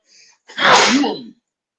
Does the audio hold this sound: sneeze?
yes